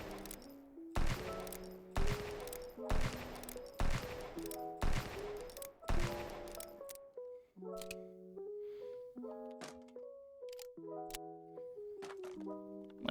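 A magnum revolver fires at a target in the VR shooter Ghosts of Tabor, a series of about a dozen loud, punchy shots, evenly spaced at first, then quicker with metallic ringing tails.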